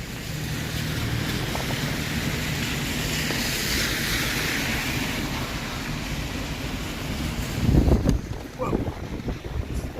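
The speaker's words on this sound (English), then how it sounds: "Wind out of nowhere here." Wind gusts suddenly and roars across the microphone outdoors on a cold, wet city evening with freezing rain. The steady blustery rush builds to a louder thumping buffet near the end.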